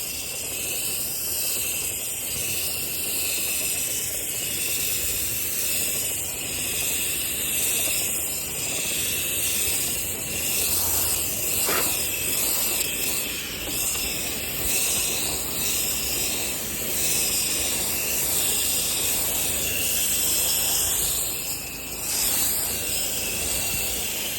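A pressure washer rinses Trex decking with a continuous loud hissing spray that holds steady throughout, with a brief sharper splash partway through.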